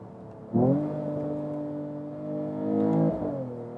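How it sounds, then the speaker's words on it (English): A 2022 Mercedes CLS 53 AMG facelift engine revs up sharply, holds a steady droning pitch, then climbs again and drops as a manual paddle shift comes through, heard close from inside the car without talking. "Shifting yourself is a lot of fun here using the shifting pedals, and listen to that."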